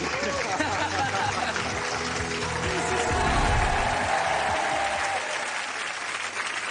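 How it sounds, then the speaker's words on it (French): Sustained applause from a studio audience at a French hypnosis entertainment show, a dense steady clapping that holds loud throughout and thins slightly toward the end. "Alors maintenant, on les applaudit, mesdames, messieurs"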